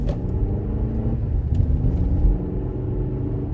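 A Toyota RAV4 LE AWD hybrid pulls away from a stop, heard from inside as a low, steady engine and road rumble that swells slightly as the vehicle gathers speed, with no talking.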